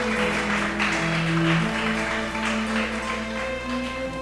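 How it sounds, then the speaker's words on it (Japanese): Guests at a Japanese wedding ceremony give a sustained round of applause, fairly loud, with background music underneath. "お祝いの拍手をお願いいたします。"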